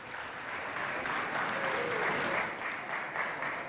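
An audience at a school poetry contest applauds a young poet with steady, dense clapping that fills the room at an even level for several seconds.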